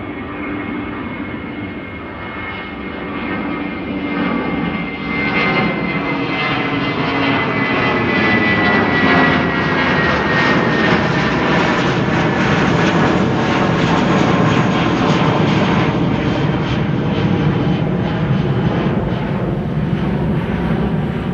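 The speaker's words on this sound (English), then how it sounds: "BA flight 431 on its way to London Heathrow" A British Airways jet departs Amsterdam Schiphol bound for London Heathrow, its engine roar building from a moderate rumble to a loud, sustained, broad roar that holds steady without talk.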